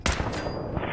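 Loud, close burst of gunfire from a weapon in Fallout 4, a dense rapid volley filling the whole second with a sharp shot at the start and another at the end.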